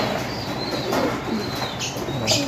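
Several pigeons coo softly and repeatedly in the background, with occasional faint chirps and a rustle of movement.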